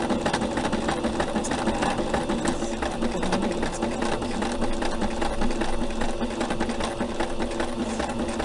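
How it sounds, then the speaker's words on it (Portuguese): A sewing machine stitches white fabric at a slow pedal speed, giving a steady, close, continuous mechanical hum with a soft rhythmic needle pulse throughout, unaccompanied by talk. "Bem devagar no pedal, né? Apertando pouco o pedal pra agulha ir mais devagar"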